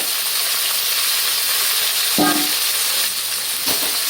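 Steady, loud sizzling of ginger, green chili and onion frying in hot oil in a pan, with a brief sharper crackle flare-up partway through as more goes in, and no talking.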